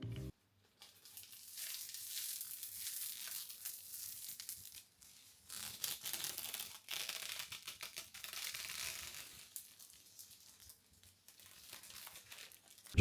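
A small cardboard box and protective foam packing are pulled out of a newly unboxed 3D printer, with close, quiet crinkling, rustling and scraping in irregular bursts and short pauses, and no talk.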